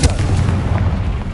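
A Confringo blasting spell goes off in Hogwarts Legacy as one loud, close explosive burst that rolls into a rumbling decay lasting just over a second.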